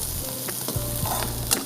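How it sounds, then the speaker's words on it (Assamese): Dried fish frying in a pan with tomato, green chilli, onion, garlic and ginger, giving a constant close sizzle with a few soft stirring scrapes and one sharp clink near the end, with no voices. "তাৰপিছত শুকান মাছখিনিও ভাজি দিওঁ।"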